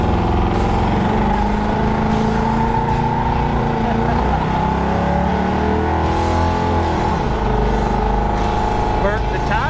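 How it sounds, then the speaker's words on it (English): Chevy Nova engine roaring at high revs as its tires burn out, a loud, continuous rumbling drone with people talking over it. "Burnt the tires, that was better."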